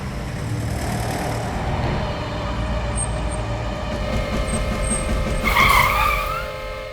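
A car drives along a forest road at night with a steady, loud engine rumble and road roar. A brief high-pitched tone rises near the end, and no one speaks.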